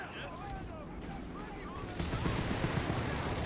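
Small arms fire rattles in a Company of Heroes 3 battle between British forces and an opponent, with bursts of gunfire that swell louder in the second half under continuous game noise and a narrator's talk.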